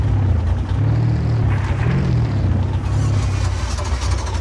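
A 1975 K5 Blazer truck engine in Spintires roars loud and close, a steady heavy rumble that never lets up, no voices over it.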